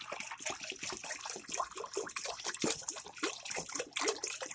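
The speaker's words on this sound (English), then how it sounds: "what we're gonna do is pour the water" Plain tap water, about a gallon, pours steadily into a pot for a roux-based dish, a continuous close splashing gush with no talking.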